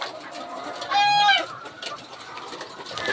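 A single loud hen call rises and falls for about half a second on a poultry farm housing 4,000 laying hens, set against a steady background hum and low farm noise.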